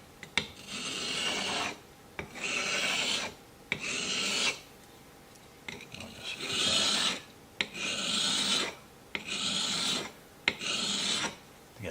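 A chisel is rubbed back and forth on a sharpening stone in a set with a honing jig, making rhythmic gritty rasping strokes, about seven bursts separated by short pauses, close and clear.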